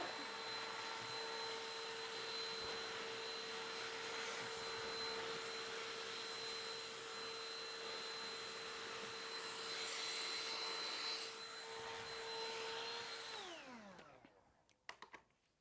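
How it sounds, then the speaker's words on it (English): Vacuum cleaner running steadily for about thirteen seconds while sucking up trimmed fabric edges from paper-pieced quilt blocks made with Quilting Cuddle, then winding down to silence with a couple of faint knocks. "Let me just vacuum up these edges that I just trimmed."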